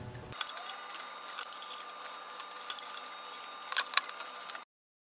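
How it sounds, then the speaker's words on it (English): A wrench working a VANOS sprocket bolt on a BMW E9X 328i N52 engine gives off small ratcheting clicks and light metallic ticks over a steady hiss, fairly faint and close, with no talking. "Just gonna try and retorque one last bolt."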